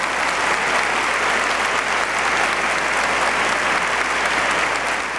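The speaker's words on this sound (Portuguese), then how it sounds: "Vamos dar uma salve de palmas a Nossa Senhora" A large congregation claps for Our Lady in a packed church at an episcopal ordination, a steady, dense applause holding at full loudness throughout with no voices standing out.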